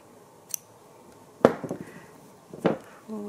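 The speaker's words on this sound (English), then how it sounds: "And I'm going to cut my yarn," Scissors cut crochet yarn: a faint click, then two distinct snips about a second apart, followed by soft handling noise in a quiet room.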